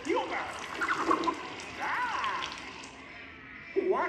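Water sprays and trickles over a theater audience during a Muppets 3D show, a soft hissing splash under character voices and audience reactions.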